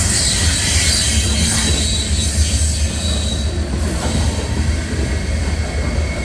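A loaded CSX manifest freight train rolls past close by, a steady loud rumble of wagons with high wheel squeal and faint rhythmic clatter, with no talking.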